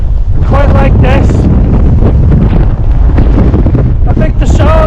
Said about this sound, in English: I knew it was going to be blowing, but I wasn't expecting gusts quite like this.